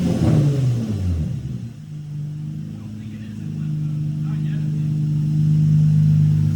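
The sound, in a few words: Nissan G35 engine running after engine swap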